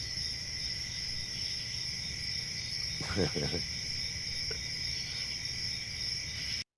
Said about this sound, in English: That's the cricket noises.